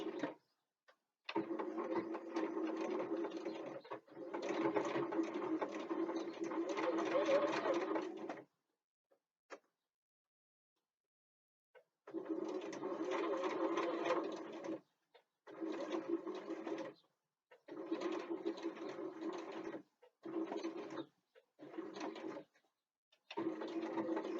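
Sewing machine stitching a seam on a bookbag, running in several bursts of steady whirring, the longest at the start and then shorter runs separated by silent pauses, close and clear.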